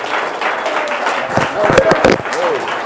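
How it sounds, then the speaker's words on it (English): A crowd gives applause for the UWAY founder at a product demo and opportunity meeting, with the clapping mixed in under a voice from a sound system and a few louder bursts part way through. "Let's give a big round of applause for the founder of UWAY, Mr. Roscoe"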